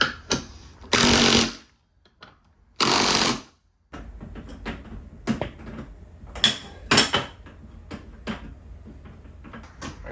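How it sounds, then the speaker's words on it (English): Impact wrench on oil pump bolts: two loud, sustained rattling bursts under a second each, followed by scattered metallic clinks and tool knocks nearby. "I'm going to hit that with an impact too"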